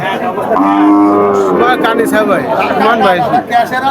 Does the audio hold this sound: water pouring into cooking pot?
no